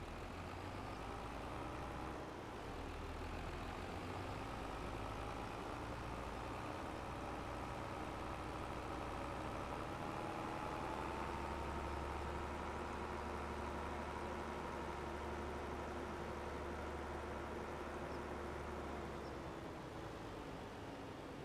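A tractor engine idles steadily in a farming video game, a low continuous rumble with a droning hum that holds level for the whole stretch, with no voices over it.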